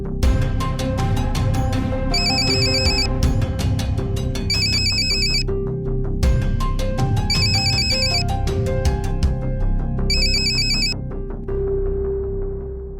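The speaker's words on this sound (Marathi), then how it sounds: "हा प्रभाकरनचा कॉल कसा असू शकतो?" A phone rings with an incoming call, a loud electronic ringtone repeating its melodic pattern with brief bursts of high chiming tones throughout.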